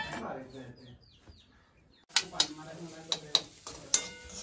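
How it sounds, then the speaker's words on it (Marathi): Onion dry-roasting in a pan before oil is added, with short clattery stirs and scrapes against the pan after someone speaks briefly at the start. "काय ते थोडा कांदा अगोदर भाजून घ्यायचा."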